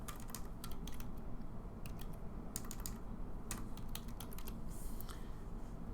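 Rapid clicking keystrokes on a computer keyboard, typed in quick bursts with short pauses, close up and alone without speech.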